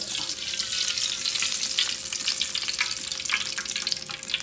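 Cooking oil heats in a pan for frying smoked tinapa fish. A steady, close, fine crackling sizzle runs throughout, with faint irregular pops.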